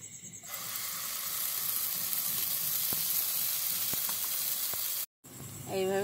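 Batter sizzling in hot ghee in a pan, a steady close frying hiss with a few small pops and a brief break near the end before the sizzle resumes.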